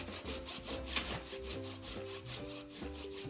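A sharp hand saw cuts through wood indoors near tiled flooring in quick, regular back-and-forth strokes, each stroke giving a short rasping scrape in a steady rhythm, close and fairly loud with no voices.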